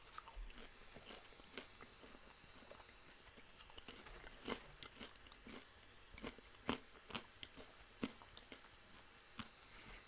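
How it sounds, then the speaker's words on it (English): Someone chews crunchy food near a microphone, making quiet, irregular crunches and mouth clicks over a low background hiss. "I'm trying to chew a little bit away from the microphone so not all hearing my mouth noises"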